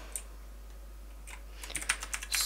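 Fingers type on a computer keyboard, starting with a few sparse taps and then building into a quicker run of crisp, close keystrokes near the end, with no voices.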